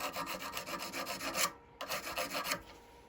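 A small diamond file rasps along the edge of a carbide parting tool in quick, close back-and-forth strokes, pausing briefly before a second burst of rubbing on a woodturning bench.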